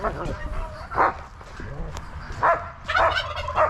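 An old ISA Red hen, about five or six years old, clucks among farmyard fowl, with several loud bursts of calls and gobbling-like squawks, close by and overlapping.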